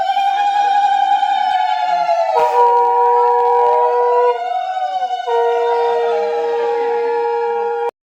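A conch shell blown during a house-warming puja, giving a long, loud, steady wailing tone with bright harmonics for about eight seconds. The pitch steps between a few held levels, with no speech over it.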